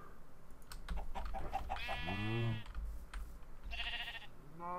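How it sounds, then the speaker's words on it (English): Clucks and squawks from a chicken in a video game, several short calls with a couple of drawn-out bleating cries, set against a steady low background hum and with no voices. "Hit a chicken."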